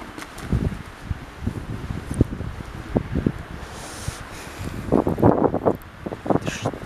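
Cold wind blowing outdoors during a walk, a steady breathy rush with gusty buffets and rustling bursts close to the microphone, fairly loud and irregular, with no speech.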